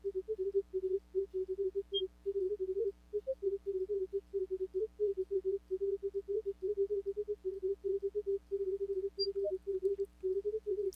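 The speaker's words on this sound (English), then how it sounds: "That's the sound of my Gamma Spectrometer turning the sound of radiation into," A gamma spectrometer sonifying radiation from a sodium-22 source gives a steady warbling tone that pulses rapidly in a fast, nearly continuous stutter over a low constant hum, with no talking.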